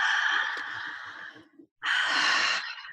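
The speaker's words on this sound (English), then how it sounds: "connected breathing." Two deep, connected breaths drawn and released in a breathwork exercise, close and loud, airy and sigh-like with a short gap between them, no speech.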